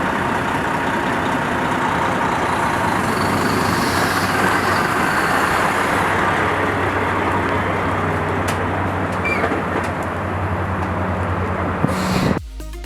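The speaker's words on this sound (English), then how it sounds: "The truck struggles and almost stalls, before eventually moving forward." A Mack truck's engine drones low and steady, labouring close to stalling before it pulls forward, with a continuous rumble and faint higher whine throughout that cuts off abruptly at the end.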